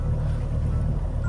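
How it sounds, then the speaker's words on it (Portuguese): Steady low rumble of a sailboat's engine as it motors out of a river toward the open sea, a constant close droning hum with no talk. "Ainda estamos movendo o barco com o motor, porque a gente está saindo ainda do rio."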